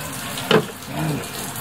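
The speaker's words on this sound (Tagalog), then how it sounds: "Saktong tubig lang. Tapos shake natin konti." Water splashes briefly into a pot of tilapia, followed by a softer sloshing as the pot is shaken, close and short against quiet background.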